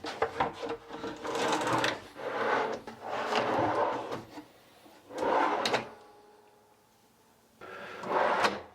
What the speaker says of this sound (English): Don't you just love those soft closed drawers?